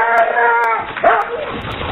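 Dogs bark and whine in a bank commercial, a short burst of yelping with whimpering tones over about two seconds, close and fairly loud, with speech mixed in.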